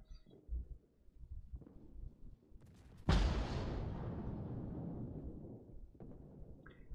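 A single heavy 139 mm naval cannon salvo from the destroyer Mogador booms in a warship game, a sharp loud blast followed by a long rumbling decay, after quieter background battle noise.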